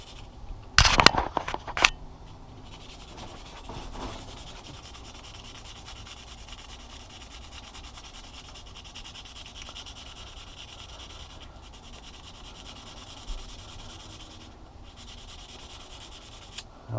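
A dirty furnace flame sensor is rubbed lightly clean with abrasive, giving a soft steady scratching that runs throughout, with a few sharper scrapes near the start.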